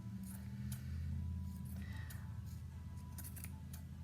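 Scissors snipping through a macrame cord feather, a few faint, quick crisp cuts over a low steady background hum.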